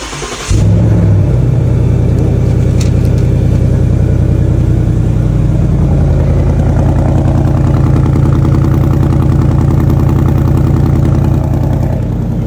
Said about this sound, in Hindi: इसका sound when you listen to the exhaust it's like make you crazy